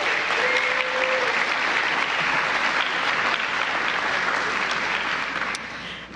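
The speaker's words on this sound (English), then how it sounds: "Let's give a round of applause for our students." Roomful of people applauding students at a DC public schools announcement with the mayor, steady dense clapping at an even level that tapers slightly at the very end.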